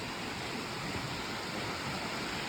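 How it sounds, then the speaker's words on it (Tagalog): Mountain-fed water of a small river near Salzburg flowing steadily in a continuous broadband rush, close and even throughout with no voices. "Ayan yung naririnig yung tubig guys, yung agos na yan, galing yan siya sa bundok na tubig."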